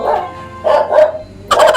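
A loud, close dog-bark sound effect, three or four sharp barks with short gaps between them, standing alone without talk.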